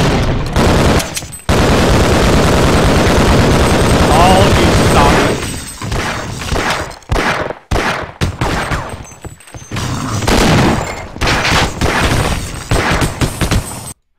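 Rapid bursts of gunfire from the video game Opposing Forces fill the clip, loud and dense with short breaks between volleys, while a voice talks over the shooting.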